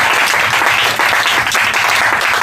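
A congregation applauding in a church, dense and sustained clapping filling the space at a steady loud level throughout, with no voices standing out above it.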